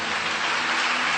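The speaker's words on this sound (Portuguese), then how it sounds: "Você pode dar um aplauso ao Senhor?" Church congregation applauding the Lord during a Sunday service, a dense, steady wash of many hands clapping together, fairly loud and sustained with no speech over it.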